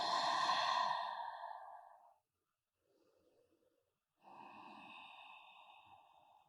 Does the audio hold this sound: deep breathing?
yes